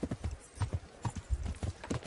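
Horse hooves clip-clopping in the medieval video game Kingdom Come: Deliverance, a quick, uneven run of close, distinct thuds at a trotting pace with no speech over it.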